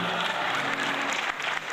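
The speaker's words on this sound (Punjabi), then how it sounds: "ਆਪਣੇ ਵਾਸਤੇ ਇੱਕ ਵਾਰ ਜ਼ੋਰਦਾਰ ਤਾਲੀਆਂ ਵਜਾਓ ਜਿਹੜੇ ਇਹਦੇ ਵਿੱਚ ਬੈਠੇ ਹੈ" An audience at a Sikh achievers' award ceremony gives a loud, steady round of applause, dense clapping throughout with a slight dip near the end.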